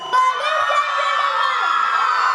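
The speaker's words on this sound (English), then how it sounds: "Please welcome them with a grand round of applause" Loud crowd cheering and whooping from an audience at a school annual day, welcoming performers onto the stage, sustained and dense throughout with shouts of excited children rising above the roar.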